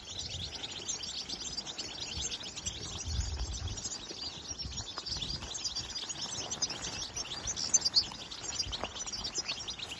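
Goldfinches chirp in a busy chorus of high, rapid tweets, moderately faint and continuous, with a few louder calls standing out near the end.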